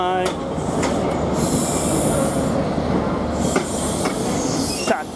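LNER train departing London King's Cross for Inverness, a loud continuous rumble of rolling carriages with wheel squeal and rhythmic clicks of wheels over rail joints.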